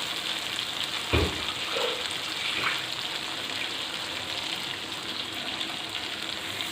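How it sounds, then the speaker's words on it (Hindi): Water poured into a pan of oil-fried blended spice masala for a Hyderabadi green chilli and tomato salan, a brief gushing splash followed by a steady sizzling hiss that fades over several seconds. "इसमें थोड़ा सा पानी डाल के हम इसमें शामिल करते हैं"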